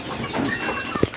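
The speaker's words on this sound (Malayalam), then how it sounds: "എന്തെല്ലാം കളറിലുള്ള കോഴികളാ" Native country chickens cluck on a rural chicken farm: one short, fairly loud cluck near the end rises above a soft, murmuring background.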